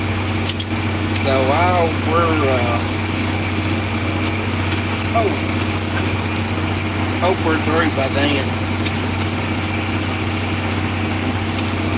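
A 40 series tractor engine drones steadily and loudly in the cab while drilling wheat, a constant low hum running throughout under intermittent talk.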